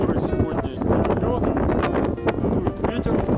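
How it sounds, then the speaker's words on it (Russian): Wind gusts across an outdoor landscape on Tenerife, buffeting the microphone in a steady, loud rumble that fills the whole clip, with some movement noise underneath. "Дует ветер, прохладно."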